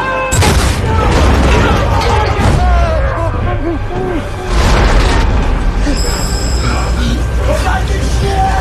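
A torpedo explosion in the film Dunkirk, a loud booming blast that swells and surges twice amid churning water and rumbling effects, with voices briefly heard beneath the din.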